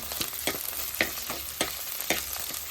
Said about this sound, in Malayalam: പച്ചമുളകിന് ഒരിത്തിരി എണ്ണയിലൊക്കെ ഒന്ന് വാടി വരട്ടെ